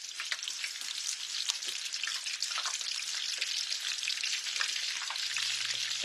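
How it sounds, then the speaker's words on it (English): Chicken pieces frying in very hot oil, a dense steady crackle and sizzle with scattered pops, close and loud, for dinner orange chicken. "It's super hot. That's why it's boiling up like that."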